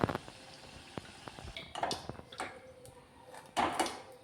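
Bengali snack pieces deep-frying in oil, a faint steady sizzle with scattered light pops and ticks and a few louder clatters of a utensil.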